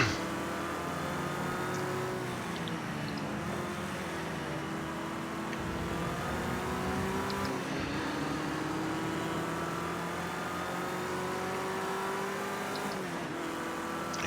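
A vintage Ford Escort touring car racing at Brands Hatch, heard from inside with a steady, loud engine drone rising through the gears with brief dips at shifts, and no one talking over it.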